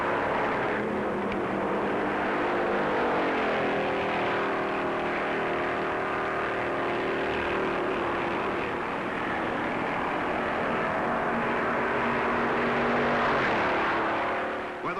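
1956 NASCAR race cars at Daytona Beach: a continuous loud roar of engines holds for the whole stretch, with rising and falling pitch as the cars pass, heard from a distance with no talk.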